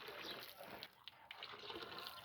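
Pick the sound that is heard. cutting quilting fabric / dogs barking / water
water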